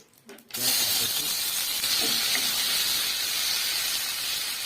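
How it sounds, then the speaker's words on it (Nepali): Onions hit a hot pan and burst into a loud, continuous sizzling hiss right after a brief moment of quiet and a few words of talk, then keep frying steadily. "अब प्याजलाई फ्राई गर्न"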